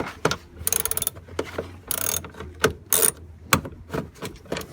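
A ratchet wrench works a bolt on an old truck headed for scrap, giving quick bursts of close metallic clicking between clanks and knocks of tools and parts, with no talking.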